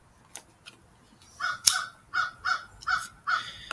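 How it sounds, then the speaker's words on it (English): Crows or grackles caw in a series of five or six harsh calls at a steady rhythm, fairly close, with a few faint clicks beforehand and no talking. "I don't know if those are grackles or if they're the crows."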